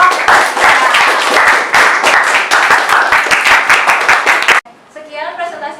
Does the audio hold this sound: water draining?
no